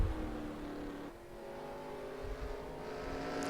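Stock cars race at Watkins Glen in NASCAR Racing 2003 Season, with SLR cars battling closely: steady, loud engine drone with a shifting pitch as the cars pass, and no talk.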